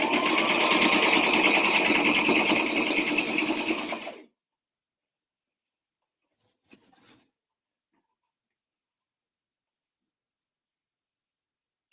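A sewing machine stitches an apron ruffle in a fast, steady whir for about four seconds, then stops. Near silence follows, with one brief faint clack.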